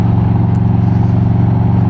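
Steady, close motorcycle engine hum while riding, a continuous low drone with even rumble and no pauses or talk.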